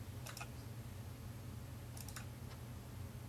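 A few quick, light keystrokes on a computer keyboard come in two short bursts, faint and close, over a steady low hum with no voice.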